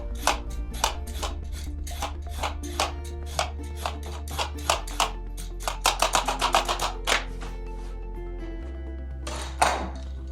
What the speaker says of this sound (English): we're just gonna go ahead and peel the carrot